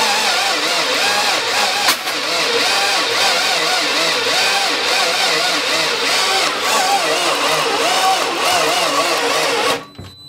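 A 2000 Volvo S80 engine cranks steadily without catching, a loud continuous starter-motor churn with a rhythmic whirring pulse that runs unbroken for about ten seconds before cutting off abruptly.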